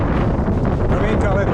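Strong wind buffets the microphone while bikepacking by the water, a loud, continuous rumbling roar with no pause.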